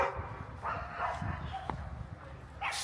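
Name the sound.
neighbor's dog barking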